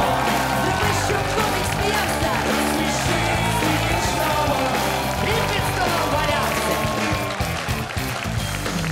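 Dense, continuous applause and crowd noise fill a stand-up comedy show audience hall, loud and sustained throughout with cheering mixed in.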